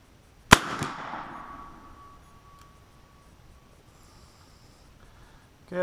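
One loud, sharp report from an AirForce Texan .457 big-bore air rifle rings out outdoors, followed by a fading echo and a faint lingering tone, then quiet.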